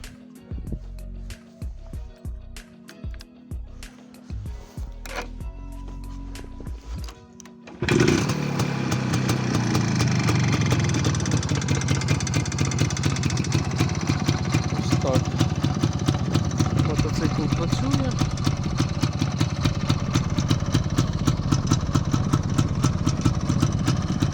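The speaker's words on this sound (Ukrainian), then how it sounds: "І зараз покажу, як він працює." A motorcycle engine starts after a few seconds of quiet handling noise, then idles steadily and loudly close by with a constant low rumble.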